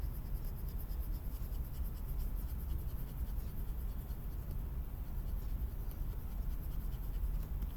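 Continuous scratchy rubbing of a stylus dragged across a Wacom tablet screen, a marker-like squeak and scrape that runs steadily and close up with no talk over it.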